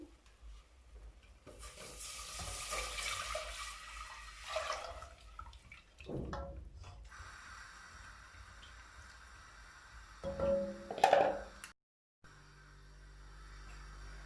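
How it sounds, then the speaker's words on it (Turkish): Cold water pours steadily into a pot of broccoli soup for several seconds, a rushing splash that swells and fades, followed by faint clinks and a brief burst of stirring. "Tencerenin altını kısıyorum ve soğuk su ilave ediyorum."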